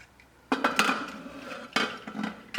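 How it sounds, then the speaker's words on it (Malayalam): Two sharp metallic clanks of a lid set onto a pressure cooker on low flame, the first followed by a short rattle, then a second clatter near the end, close by. "നമുക്കത് മൂടി വയ്ക്കാം ലോ ഫ്ലെയിമിലിട്ടിട്ട്"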